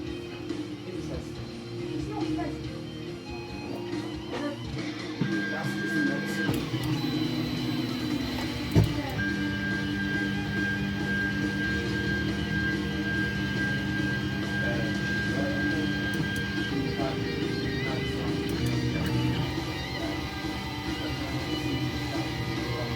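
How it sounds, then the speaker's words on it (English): A 3D printer printing Star Wars turbolaser barrels for a book nook build, its stepper motors whining in sustained tones that shift pitch over a steady mechanical hum, continuous and fairly close. "This is the actual barrels, the laser barrels printing."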